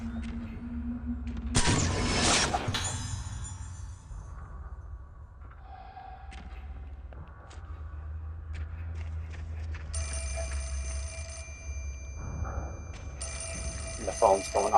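A telephone rings inside the horror video game Fatal Frame IV: Mask of the Lunar Eclipse, a repeating bright electronic trill in bursts over a low ambient game drone, with a voice talking over parts of it.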